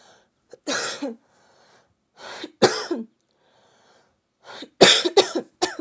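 Several harsh coughs come in separate bursts with short silences between them, close and fairly loud, with no talking.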